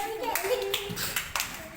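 Children clapping in an anganwadi classroom, a few scattered bursts of hand claps mixed with a teacher's voice and child chatter over about two seconds.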